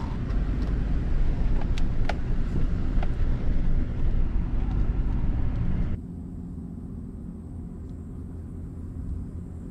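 Pickup truck driving out into a bottom pasture on a bison farm, a loud rumbling engine and rough road noise with a few knocks and rattles, cutting to a quieter steady drone partway through.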